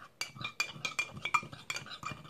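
A utensil stirs a Chinese flan mixture in a bowl, making about nine quick, rhythmic clinks and scrapes against the dish, close and fairly quiet.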